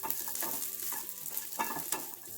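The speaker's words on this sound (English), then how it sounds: "Add 1/4 cup of onion petals and saute it for around a minute and a half." Onion petals sautéing in a pan for white sauce pasta, a steady close sizzle broken by scraping stirs of a spoon, with no voices.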